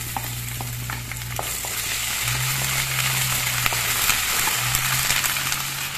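Ginger-garlic paste with cloves, cardamom, cinnamon and bay leaves frying in hot oil for a chicken and chickpea curry, a loud steady sizzle with occasional stirring scrapes and a low background hum.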